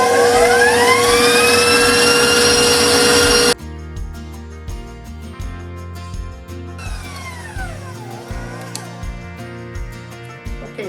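A stand mixer runs at raised speed through Hawaiian roll dough, a loud steady whine for several seconds that then drops to a quieter, rhythmic churning knock with periodic thumps as the dough slaps around the bowl.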